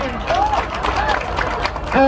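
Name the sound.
audience applause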